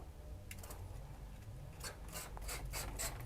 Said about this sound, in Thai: ให้เราทำการใช้ ขวดฉีดน้ำแรงดันสูงนะครับ ฉีดไปที่ตัวแอร์ได้เลยนะครับ